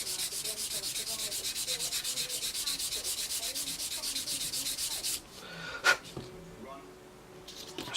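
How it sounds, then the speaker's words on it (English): A very fine sanding sponge rubs a Tamiya 1/32 F-16 model canopy in fast, even back-and-forth strokes for about five seconds, close and quiet, then stops, leaving faint handling noises. "We come on to the very fine sanding sponge."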